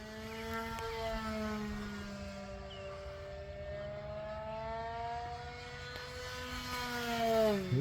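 A 3D-printed Me 163 model plane with an 1100 kV electric motor whines steadily, its pitch sliding up and down as it passes, distant at first and growing louder near the end.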